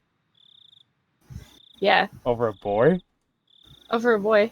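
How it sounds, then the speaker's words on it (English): A cicada in the video game Higurashi gives a thin, high, steady buzzing chirp in short repeated bursts, heard between and under clear nearby talk. "But yeah, that sounds like a cicada."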